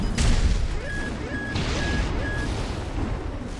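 Artillery fire in Armored Core 6, a heavy booming impact followed by rumbling blasts and debris, with a few short high beeps repeating in between.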